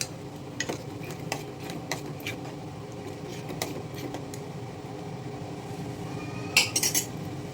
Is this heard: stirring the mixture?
yes